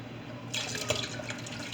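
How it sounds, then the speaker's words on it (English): Canned pineapple pieces and their juice pour into a batch of Kool-Aid, making a soft steady splash and trickle of liquid that starts suddenly and stays faint and close. "I'm gonna add the juice and all."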